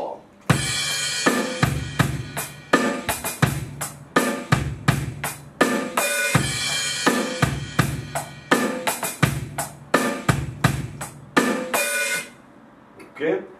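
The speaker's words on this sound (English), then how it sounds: "you can add in the crash cymbal on the first beat of the bar" Rock drum groove played on a kit, with a crash cymbal struck on the first beat of each bar over steady kick, snare and hi-hat; loud and close, running continuously before ending in a decaying cymbal wash.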